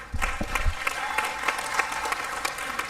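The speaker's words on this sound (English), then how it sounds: "please give him a round of applause" Audience members at a Los Angeles city council meeting clap, with individual sharp claps standing out in an uneven, moderately sized round, plus some low thumps early on and faint crowd murmur underneath.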